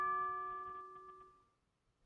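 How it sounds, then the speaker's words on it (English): A Samsung phone notification tone called single doorbell sounds one bright chime that rings out and fades over about a second and a half, clean and close with nothing else around it. "single doorbell,"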